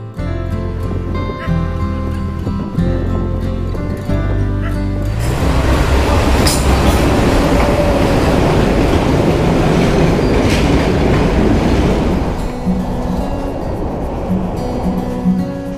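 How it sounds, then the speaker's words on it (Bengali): A train running in Sri Lanka: loud, close clickety-clack of wheels over rail joints with rumbling carriage noise, swelling to a dense roar midway and easing back near the end. "আমরা আঙ্গুলানা স্টেশন থেকে ফিরতি ট্রেন ধরছি"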